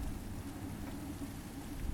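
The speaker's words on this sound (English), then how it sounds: "As you can hear, it's raining outside." Rain falling outside, a steady soft hiss of drops on surfaces that stays even and continuous throughout, moderately quiet and without any voices.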